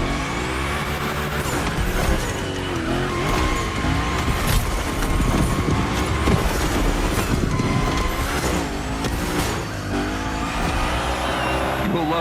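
The Hoonicorn slides hard through a gymkhana course in The Crew Motorfest, its engine roaring loud and close with rising and falling revs and tire squeal. A voice talks over the continuous engine noise.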